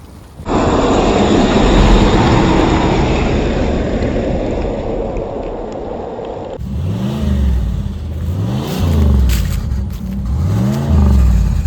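A 1989 Cadillac Allante engine revving at wide open throttle, first a sustained loud roar, then a series of rising and falling revs in a rhythmic pattern, heard up close.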